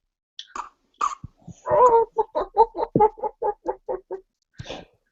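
A chicken clucking in a Zelda video game, a quick run of about a dozen sharp clucks in a row after a few scattered squawks, loud and close.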